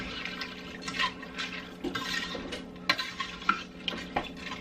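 A spoon scrapes and stirs macaroni through a one-pot cheeseburger casserole, with soft wet sloshing and a low simmering hiss, plus several sharp clinks of utensil against the pot, fairly quiet and close.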